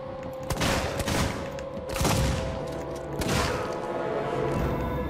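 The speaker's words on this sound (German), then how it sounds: "Das war ein fucking Headshot!" Gunfire rings out during play of the video game Alien: Isolation, with three heavy bursts of shots and booms spaced about a second and a half apart over a low droning background.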